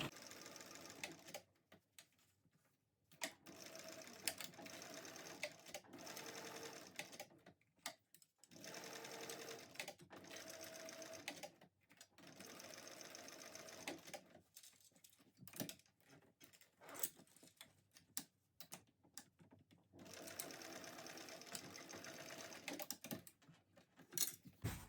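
Sewing machine basting a tote bag, running in several bursts of steady rapid stitching separated by brief pauses, close and moderately loud with no talking.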